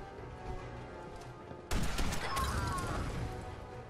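Fallout 4 gunfire breaks out abruptly partway through, a loud burst of shots over a dense, noisy game soundscape that keeps rumbling to the end.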